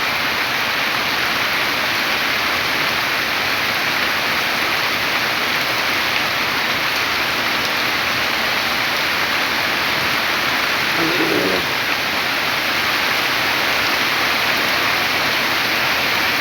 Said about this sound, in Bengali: আমি এই সুন্দর বৃষ্টি পড়া একটা মুহূর্ত আপনাদের সামনে শেয়ার করে দিলাম